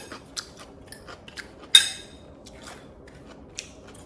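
Someone bites into and chews a fresh raw salad of tomato, cucumber, parsley and salt, making soft crunches close by with one sharp crisp snap.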